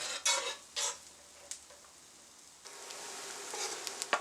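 Diced onion hits a hot pan for saltfish, with a few scraping stirs early on, then a steady close sizzle building over the last seconds.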